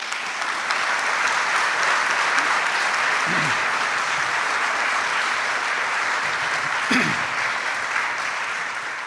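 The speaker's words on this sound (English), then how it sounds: "Please join me in giving them all their very own round of applause." An audience at an arts center reading event gives a sustained round of applause, a steady wash of many hands clapping evenly for the full length.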